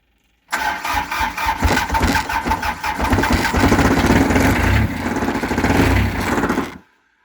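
A John Deere 430 tractor's diesel engine cranks, catches and runs in cold weather, a loud, close, chugging rumble that climbs and holds steady before shutting off abruptly.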